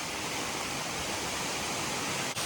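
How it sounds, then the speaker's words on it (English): A waterfall in Shenandoah roars as a dense, steady broadband rush of falling water, close and loud, unbroken for the whole moment. "it's a pretty good looking waterfall."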